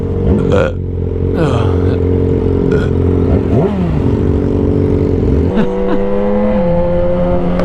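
Loud sport motorcycles, including a Yamaha R6 and an Aprilia RS660, rev close by on a fast highway group ride. The engine tones are strong, rising and falling through revs and gear changes over steady road and wind noise.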